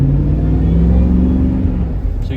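A 2004 Ford SVT Lightning pickup with a four-speed automatic accelerates under load, a loud, close, steady rumbling drone that eases off near the end.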